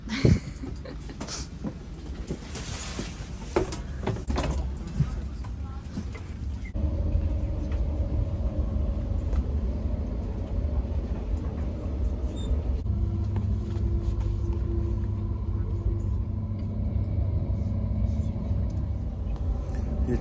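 Constant low rumble and rattle inside a moving train between Ankara and Eskişehir, with steady road-like noise throughout and occasional clatter.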